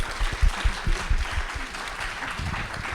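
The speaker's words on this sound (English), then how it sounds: "A round of applause, please, for Ravi, Hannah, Jen, and Leah." An audience at a panel event claps for the panelists, with dense applause that starts strong and then settles into a steadier patter over about three seconds.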